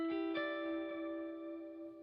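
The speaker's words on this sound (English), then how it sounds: "now I'm creating an artificial stereo environment" Sustained electric guitar notes ring out with a lush, spacious reverb tail, a couple of plucks blooming and slowly fading.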